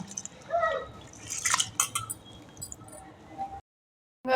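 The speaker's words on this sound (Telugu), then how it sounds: "ఇదిగోండి శుభ్రంగా కడిగి నానబెట్టేస్తున్న అర్ధ గంట సేపు" Rice and moong dal being washed in water make splashes, drips and light clinks of grains and vessel, close and moderately loud, ending in a brief silence.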